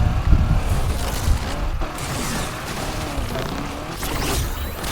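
Ford Crown Victoria taxi with a non-stock V8 in a video game, engine roaring steadily while the car slides and drifts, loud and close with shifting pitch and occasional knocks.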